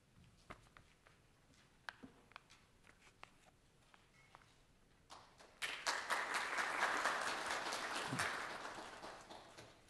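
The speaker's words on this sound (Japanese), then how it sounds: "盛大な拍手で、えー、お願いいたします。" Applause from the audience at an award commemorative lecture. Scattered faint taps and claps come first, then full clapping from many hands swells suddenly and keeps going before easing slightly.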